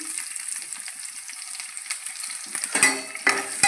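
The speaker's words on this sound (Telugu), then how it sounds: "ఫస్ట్ పోపు గింజలు, కరివేపాకు, కొంచెం వేయాక ఆనియన్" Seasoning seeds, curry leaves and onion fry in hot oil, giving a steady close sizzle with stirring scrapes that grow busier toward the end.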